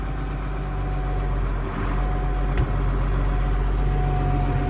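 A 1992 John Deere 4055 tractor runs in reverse first gear, its diesel engine giving a steady, loud low rumble with a constant hum and one brief clunk partway through.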